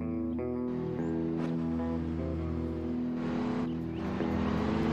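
A GTR sports car engine in the ER:LC Liberty County Roblox game, droning and revving steadily with rising and falling pitch, loud and close throughout.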